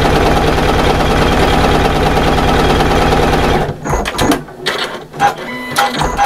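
A sewing machine runs in a fast, steady mechanical chatter while stitching the side seam of a bag lining, then stops and gives way to scattered clicks and handling knocks.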